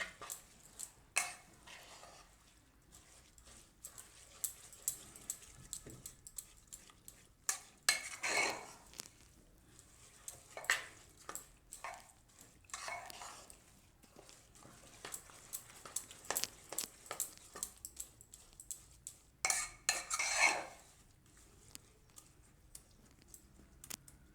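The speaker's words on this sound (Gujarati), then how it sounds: "તો બધું આપણે મિક્સ કરી લઈશું આ રીતે" Soaked mixed millets and lentils for Gujarati khichdo being stirred in a pot, giving repeated faint scraping and clinking of a spoon against metal, with intermittent louder bursts and quiet gaps between.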